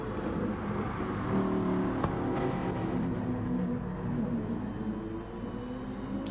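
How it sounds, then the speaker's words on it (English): A race car engine in Gran Turismo, driven in an FIA Nations Cup online race, hums and revs steadily with rising and falling pitch as gears change, moderately loud and continuous with no voices. "Dropping down at the second gear, getting the traction and getting up the gears as quickly as possible."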